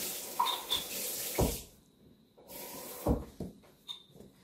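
Something is rinsed under a running kitchen tap, with two bursts of splashing water separated by a quieter pause, and small knocks and clinks around them.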